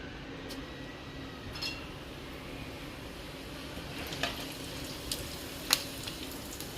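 A steady, soft sizzle of cumin seeds frying in hot ghee, with a few faint clinks of a utensil against the pan.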